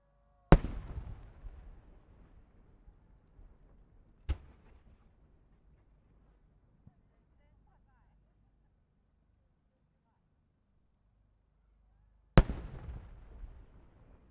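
Fireworks at the Omagari fireworks festival in Japan: three sharp, loud bursts spaced far apart, each followed by a crackling, rumbling decay, with quiet stretches between.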